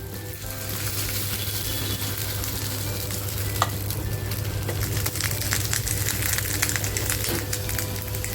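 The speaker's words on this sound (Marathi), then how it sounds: "मस्त फ्राय करून घेते एक बाजू बघा छान फ्राय झालेली आहे पलटी करूया आपण" Pomfret wrapped in banana leaves fries in a pan with a steady, close crackling sizzle, a low constant hum beneath it and a few sharper pops and clicks throughout, with no talking.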